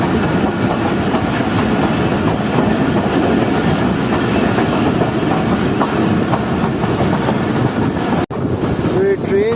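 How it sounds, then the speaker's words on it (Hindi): The Fareed Express passenger train rolls into Usmanwala railway station, heard from on board as a loud continuous rumble with rhythmic wheel clatter and a faint squeal, briefly cutting out near the end. "9:45 बजे हमारी ट्रेन पहुंच रही है उस्मान वाला रेलवे स्टेशन पर।"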